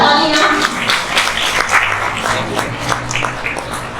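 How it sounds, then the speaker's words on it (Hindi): Audience applause at a ceremony during a creative arts festival, a steady wash of many hands clapping close by, holding loud throughout with some murmuring underneath. "जोरदार तालियां।"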